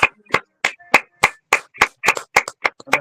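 A prayer-service congregation claps in about fourteen sharp, distinct beats. The beats come at an even pace that quickens slightly toward the end, close and crisp, with silence between the beats.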